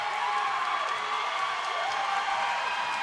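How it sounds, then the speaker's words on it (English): Roller derby crowd cheering and shouting in a steady, dense roar that fills the whole span, loud and continuous with no clear breaks. "And our crowd literally goes wild."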